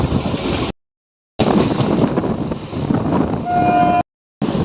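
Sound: passenger train moving near Tanuku railway station

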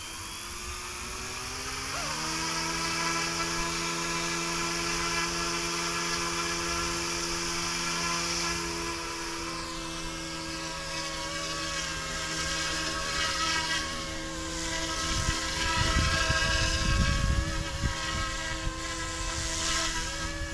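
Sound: Yuxiang F09 BlackHawk RC helicopter flying

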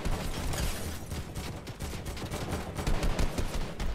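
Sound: AK rifle gunfire in Fortnite video game

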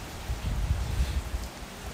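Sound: rain falling during Hurricane Ian

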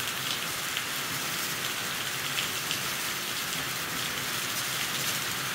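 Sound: sudden heavy rain shower

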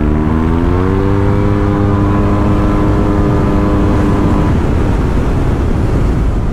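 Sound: Yamaha TMAX maxi-scooter engine accelerating

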